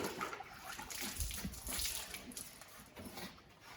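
Water rinsing down a car part, a leg of a Holden FB with a 219 engine, inside and out: a steady close hiss of spraying water that runs throughout with slight fluctuations.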